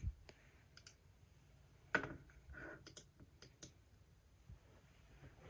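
A new Apple Magic Mouse for a 24-inch iMac gives a few sharp, close clicks and taps at irregular intervals in a quiet room, with no speech.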